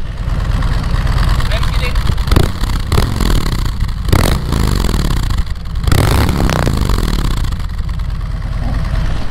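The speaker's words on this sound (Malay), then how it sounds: "So inilah bunyi exhaust standard keluar daripada kilang." A 2020 Harley-Davidson Road Glide with its stock factory exhaust rumbles at idle with a few sharp blips of the throttle, loud and close, with a person speaking over it.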